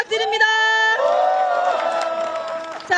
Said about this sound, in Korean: 이건태 의원님께 다시 한번 박수 부탁드립니다